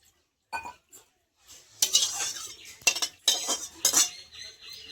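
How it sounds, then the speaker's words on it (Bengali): A wok (kadai) is rinsed, giving sharp metallic clanks and scraping clatters in irregular bursts after a quiet start, close and moderately loud, with splashy rattles between the knocks. "এবার একটু কড়াইটা ধুয়ে নেব।"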